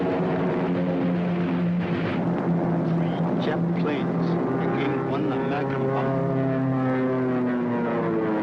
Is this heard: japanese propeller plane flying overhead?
yes